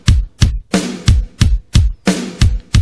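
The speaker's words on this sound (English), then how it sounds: "Pretty common beat in the 60s was using the bass drum on every strike except the snare drum, and that sounds something like this." 1960s-style drum beat with the bass drum on every strike except the snare, alternating deep kicks and bright snare cracks in an even, steady pattern, loud and upfront with no voices.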